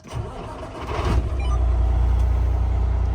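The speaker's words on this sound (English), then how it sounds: "So I should be able to start the truck." A Kenworth W900L truck's diesel engine cranks briefly and fires, then settles into a deep, steady idle rumble, close and growing louder before holding even.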